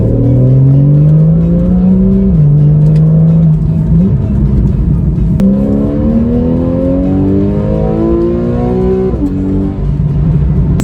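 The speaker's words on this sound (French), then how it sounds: "C'est un flat 6 extrêmement rageur grâce au moteur atmosphérique" A Porsche Carrera 4S naturally aspirated flat-six engine revs hard and loud, its pitch climbing through several sharp rising sweeps with brief drops between gear changes.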